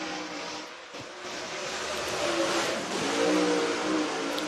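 A race car, the number 59 machine, runs a qualifying lap at Cherokee Speedway in Gaffney, South Carolina, its engine a steady loud roar that swells and revs as it passes through the turns.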